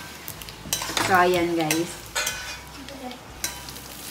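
Rajma chawal being stirred and mixed in a pan during home cooking, with scraping, clinking utensil sounds and a soft sizzle, while a person speaks briefly over it.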